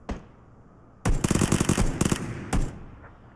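Rapid bursts of suppressed automatic rifle fire in the battle royale game PUBG, one long rattling volley followed by a shorter burst, loud and close with no talk over it.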